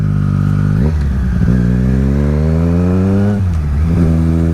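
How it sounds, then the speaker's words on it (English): A motorcycle engine heard on board while riding at about 30 mph without rev matching, droning loudly and climbing in pitch, with abrupt drops and clunks as gears shift twice, no speech. "Now I'm into third gear, and I'm doing about 30 miles an hour"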